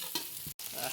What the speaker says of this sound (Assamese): এতিয়া বেলেগ এটা পাত্ৰত কাঢ়ি দিম